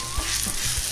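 Grated raw potato rösti sizzling in a cast-iron pan, a steady close frying hiss with soft low bumps as the mass is pressed down.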